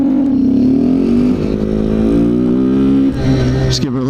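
Kawasaki Z125 motorcycle engine revving hard during wheelie practice, a loud, close, buzzing single-cylinder note that holds high, dips, then rises again before cutting off sharply.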